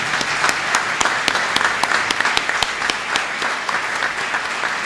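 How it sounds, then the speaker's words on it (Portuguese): Loud, dense applause from a crowd at a Sorocaba mayoral runoff debate, a steady wash of many hands clapping with some sharper claps standing out, sustained throughout with no talk. "desejamos aí uma salva de palmas para eles que chegaram a este momento tão importante"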